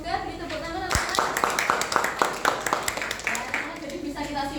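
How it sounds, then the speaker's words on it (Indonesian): Students in a classroom clapping for a presenting group, a quick run of crisp, fairly close claps in a steady rhythm, with a teacher's voice talking before and after. "Beri tepuk tangan anak-anak."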